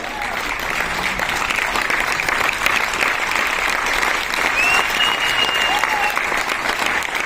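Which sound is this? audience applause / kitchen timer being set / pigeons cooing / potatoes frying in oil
audience applause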